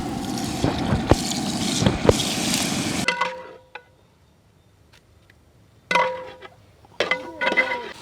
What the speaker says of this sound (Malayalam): ഒരല്പം വെള്ളം നമുക്ക് ഇതിൽ ഒഴിച്ചു കൊടുക്കാം.